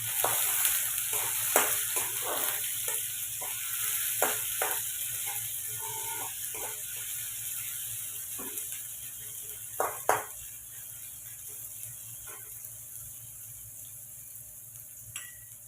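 Chopped onions sizzling in a pan while being stirred, a steady frying hiss with scattered scraping and tapping of the spoon against the pan, occasional sharper clicks, no talking.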